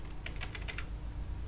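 Computer keys tap in a quick, light run of about seven strokes, then a pause and one more press, faint and close under a steady low hum.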